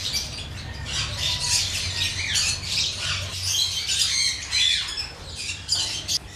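Opaline and dilute opaline pet birds squawk and chirp in repeated sharp, bright bursts close by, with no talk.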